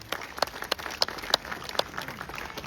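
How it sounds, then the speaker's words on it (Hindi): Scattered audience clapping for volunteers at a protest sit-in, a few separate sharp claps standing out over a low murmuring background rather than a full ovation. "सो ये वॉलंटियर्स के लिए भी एक बार तालियां बजा दीजिए।"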